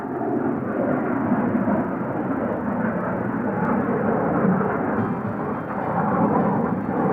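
A Royal Air Force Cold War V-bomber jet roars past, its engines producing a broad, sustained rushing drone that holds steady and loud throughout.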